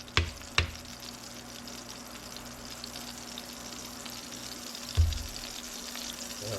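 Butter fries in a very hot pan for steak, a low steady sizzle running throughout with a few sharp pops and clatters, close by and fairly quiet.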